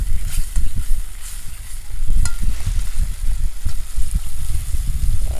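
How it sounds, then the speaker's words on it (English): Tin mackerel in a pot over an outdoor fire in the hills is stirred in loud, repeated scraping strokes over a bubbling sizzle, with low rumble underneath. "Stir it up then."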